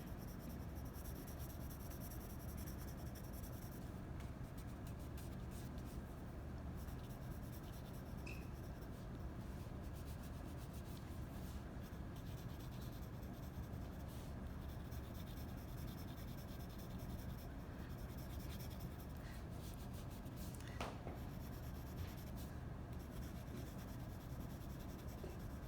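Steady, soft pencil scratching and rubbing on paper while shading a Zentangle drawing goes on continuously at close range, with no voices.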